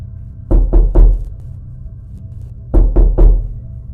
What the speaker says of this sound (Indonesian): Suara ketukan itu masih berlanjut.